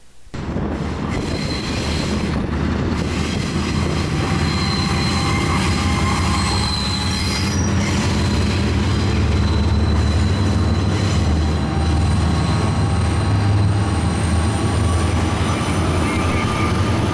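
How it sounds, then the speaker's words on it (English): A freight train pulled by four CP locomotives rounds a bend on the Tehachapi route. It makes a loud, steady rumble, with high wheel squeal running throughout. "Train 14R came around the bend with the 4 CP locomotives in tow."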